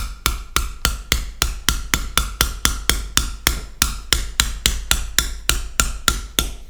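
A gouge chisel is driven by a wooden mallet in a chasing technique, producing a steady, even series of about twenty-five crisp knocks at close range with no talk.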